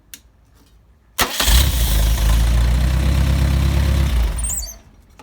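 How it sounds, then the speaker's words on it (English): A Mercedes 190SL engine on test fires up from hot with a sharp crank and catch, then settles into a steady, loud, rumbling idle for about three seconds before shutting down. "I'll do a hot start just for fun while we're here."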